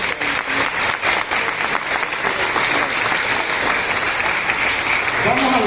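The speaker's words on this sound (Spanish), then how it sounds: "Vamos a dar un fuerte aplauso al Señor." A church congregation applauds loudly and steadily throughout, a dense, close wash of many hands clapping at once, with voices mixed into the noise.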